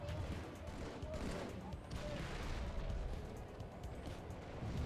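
Gunfire in Halo 3 during a competitive WCG USA 2008 match, with rapid shots popping continuously under dense game noise and commentary-like voices throughout.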